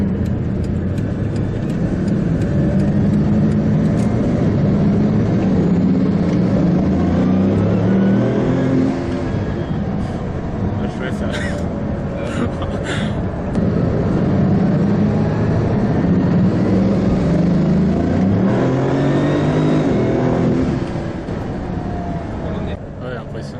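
A Bugatti Veyron pulls hard under acceleration, a loud, sustained engine and turbo roar heard from inside the car, rising and falling in pitch, with people talking over it.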